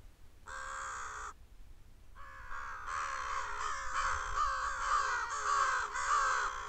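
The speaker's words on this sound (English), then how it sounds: "here's some loud crows." Several crows caw loudly near a Texas farm pond in the afternoon, one short call followed by a long run of overlapping, harsh repeated caws close by.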